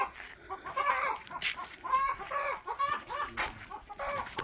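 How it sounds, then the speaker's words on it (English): Chickens on an egg farm cluck and squawk in overlapping bursts, a busy, moderately quiet flock murmur with occasional sharper calls and no talking. "Chickens are the same everywhere."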